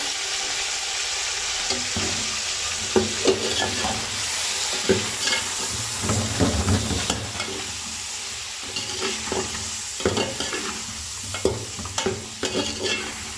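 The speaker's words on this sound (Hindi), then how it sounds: "अब मैं इसको थोड़ा सा इसकी भुनाई करूँगा" Boiled, stock-softened chicken sautés in a pot for yakhni pulao, with a continuous sizzle broken by repeated scraping stirs and knocks of a spoon against the pot, close and clear with no talking.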